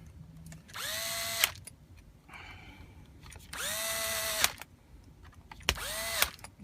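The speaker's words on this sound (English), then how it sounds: "So the clutch on this cordless here is set this amount of torque that it is not going to strip it." A cordless drill with its clutch set drives screws in three bursts, each a rising motor whine close by that ends in a sharp click as the clutch slips, with a fainter whir between them.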